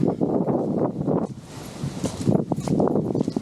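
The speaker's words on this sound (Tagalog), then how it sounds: "Mahangin." Sea wind gusts and buffets the microphone at a seaside car-camping site in Lobo, Batangas, a rough, roaring rush that dips briefly before picking up again.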